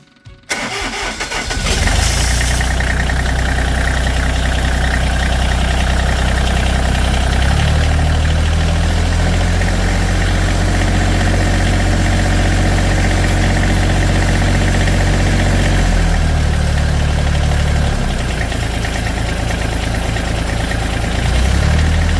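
A Massey Ferguson GC series compact tractor engine cranks and catches, then settles into a steady close idle with slight shifts in pitch, no talk over it.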